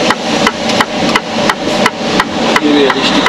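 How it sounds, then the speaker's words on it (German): Hammering at a construction site outdoors, a series of sharp regular blows roughly every third of a second, loud and close, with faint background noise between strikes. "Hier ist eine Baustelle"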